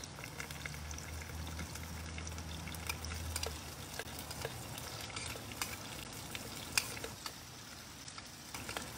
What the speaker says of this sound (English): Already got a nice sizzle there.